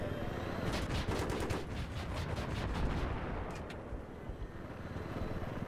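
Sustained rattling gunfire and explosions in a Battlefield 3 co-op mission, with a dense, loud stream of shots and rumbling blasts running throughout, helicopter combat setting.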